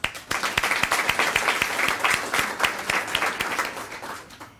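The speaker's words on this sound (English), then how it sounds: "Let's give them a great round of applause." At a Student of the Month ceremony, an audience gives a round of applause for scholarship sponsors, dense clapping with some sharper individual claps, sustained for several seconds before fading out at the end.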